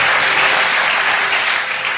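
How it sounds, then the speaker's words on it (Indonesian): A church congregation claps together in a dense, steady burst of applause, loud and sustained throughout with no gaps. "Tepuk tangan bagi Tuhan."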